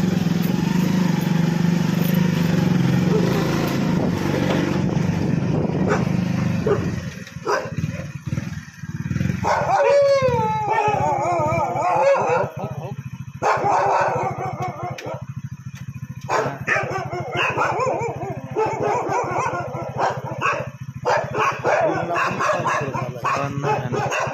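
Dogs bark and yelp over a steady engine rumble, and people talk nearby throughout.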